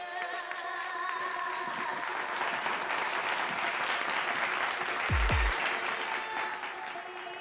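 A pageant crowd at Miss Earth Australia 2018 gives the top 10 candidates a full, sustained round of applause that rolls evenly throughout, with a brief low thump near the end.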